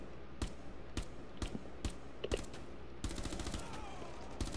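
Pistol gunshots in the online shooter game Rainbow Six Siege: several sharp, evenly spaced single shots ring out loud and close, then a rapid burst of quicker fire follows near the end.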